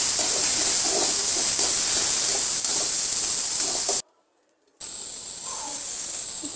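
Carrots and beans sauté with salt in a pan, giving a loud, steady sizzling hiss close by that cuts to silence for a moment and then resumes.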